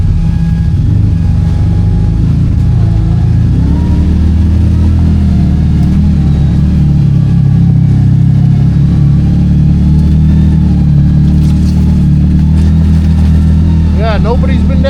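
A 2026 CanAm Outlander XMR 700 ATV engine runs in low-range four-wheel drive, holding a loud, steady drone throughout, with someone talking over it.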